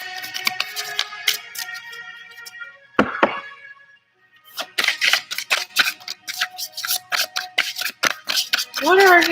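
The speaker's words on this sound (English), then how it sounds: "Let's get some shuffle action going here." Tarot cards are shuffled by hand in quick, dense bursts of crisp riffling and tapping, close and fairly loud, after a stretch of lighter card handling.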